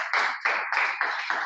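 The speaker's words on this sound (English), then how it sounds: "Please a round of applause for her one more time." A small classroom audience at a public speaking class claps briefly, giving about five quick, even bursts of applause in a steady rhythm, close and moderately loud.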